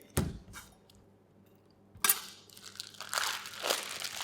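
Plastic packaging around an Australian F1 Wagyu rump cap crinkles and rustles as it is unwrapped, with two sharp crackles early on and a louder burst of crumpling toward the end, fairly close and with no talking.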